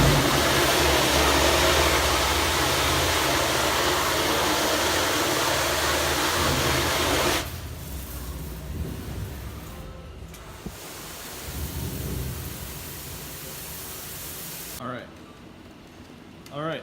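Water gushes hard against a screen-printing screen as it is rinsed out, a loud broadband spray that runs steadily for about seven seconds before dropping to a quieter, uneven trickle and splash.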